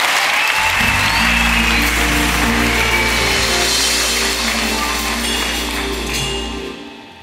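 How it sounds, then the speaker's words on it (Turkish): Studio audience applause on a Turkish television comedy show, a dense, loud burst of clapping with a low musical hum beneath that fades out over the last second. "İyiyse bir alkış çalın bakalım."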